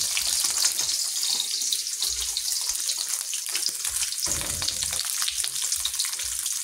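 Dried yellowstripe fish sizzles and crackles in hot oil in a pan, a steady dense frying hiss throughout with a few louder spits, no voices.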